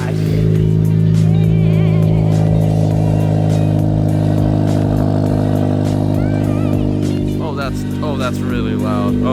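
A 10th-gen Honda Civic Si fitted with a PRL catted downpipe runs loud and close, holding a steady, droning exhaust note throughout. People talk excitedly over it near the end.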